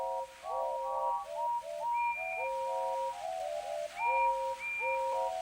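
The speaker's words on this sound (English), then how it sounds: "the rest of his speech was drowned in a delighted chorus of cheers and whistles" Several steam engine whistles sound together in a cheerful chorus of overlapping tones, some short and some held. They are fairly close and clear, with no voices.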